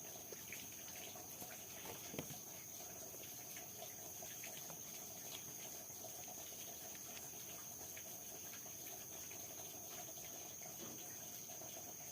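Steady, soft hiss of running water flowing continuously, with faint insect chirps and a high steady tone in the background, no talking.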